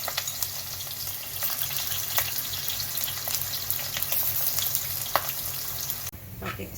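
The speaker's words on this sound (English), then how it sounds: "Now the oil has to be very hot so that they fry off well." Food frying in batches in very hot oil gives a steady, close crackling sizzle with scattered louder pops, continuous and without speech.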